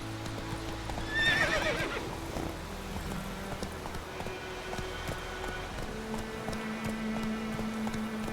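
Roach, Geralt's horse in The Witcher 3, gives a clear whinny early on, with steady clip-clopping hoofbeats running throughout against soft ambient game sounds and music.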